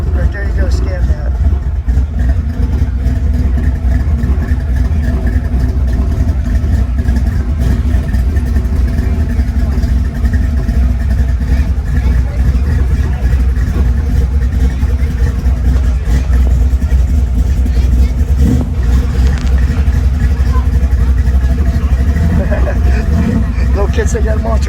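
A Ford Bronco on 37-inch tires with a 427 stroker V8 rumbles loud and close for the whole stretch, idling and revving in a steady deep roar at an outdoor car show while people talk nearby.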